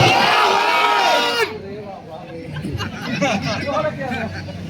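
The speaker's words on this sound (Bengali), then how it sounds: "কথা হবে না, তাকবীর দেখি।" A crowd of elders at an Islamic jalsa shouts a loud takbir, a massed roar of voices that drops off sharply and gives way to scattered shouting and murmuring.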